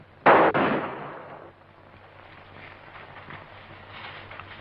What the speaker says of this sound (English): He's shooting at us.